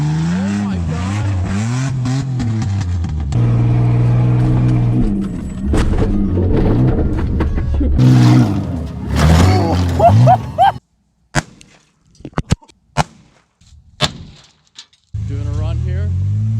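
A Dodge Dakota pickup truck drives and revs hard, its engine droning and climbing in pitch with tire noise, loud and close, then breaks into choppy bursts and gaps before the engine note returns.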